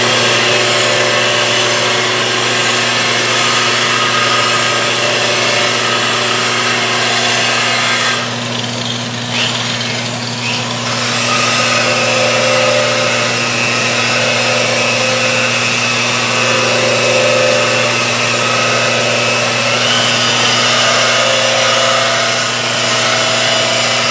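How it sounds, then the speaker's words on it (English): A Makita power polisher buffing a car wheel during a tire job, a loud steady motor whine held for the full stretch with a brief dip in load partway, close and without talk. "So I fire up the old Makita. And we give it a polish."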